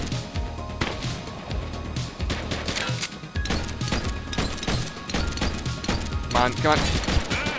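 Rapid gunfire in a video game, aimed at a boss in a police precinct setting, rattles in dense repeated bursts with sharp cracks, loud and close, while a voice speaks briefly over the shooting.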